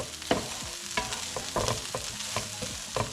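Garden potatoes stirred as they fry in a pan, a utensil scraping through them in repeated strokes over a steady close sizzle, with no talking.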